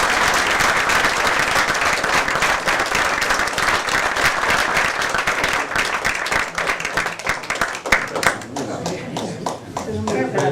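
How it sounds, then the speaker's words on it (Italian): An audience at a poetry prize ceremony in Mamoiada claps steadily and loudly for about ten seconds, a dense wash of applause that thins slightly toward the end. "Un applauso a Salvatore."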